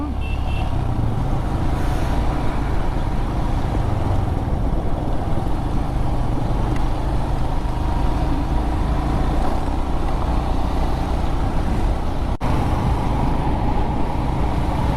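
Steady car and truck noise on a quiet road between Kurnool and the Chirala beach area of Andhra Pradesh. It is a continuous, even rumble of passing vehicles and engine drone for the whole stretch, with no one talking.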